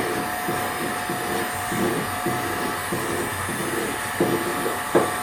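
Heat gun blowing hot air to soften cured epoxy on timber, a steady loud roaring whoosh with faint rhythmic scraping pulses underneath and a couple of sharper knocks near the end.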